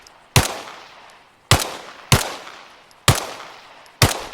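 Five sharp pistol shots fired from a standing position at a shooting range in Arma Reforger, each a loud crack with a decaying tail, spaced unevenly about a second apart.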